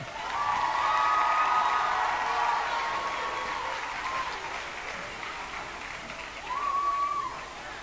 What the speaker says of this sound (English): let's big round of applause